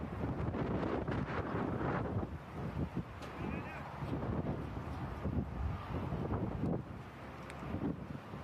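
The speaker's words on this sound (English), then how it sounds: "It's a lot windy." Gusty wind buffets the microphone at an outdoor cricket ground during a Masters cricket match, a steady low rumble that persists throughout with faint speech underneath.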